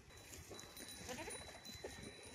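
A goat bleats faintly on a goat farm, with a few short, wavering calls over quiet background rustle. No one speaks nearby.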